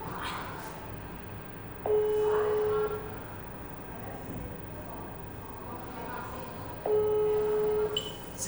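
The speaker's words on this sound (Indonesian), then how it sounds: "saya akan telepon" A steady telephone ringback tone sounds twice, each about a second long and separated by a pause, with faint background noise in between.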